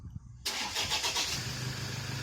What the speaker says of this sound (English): If you hold that down, it will auto start the car.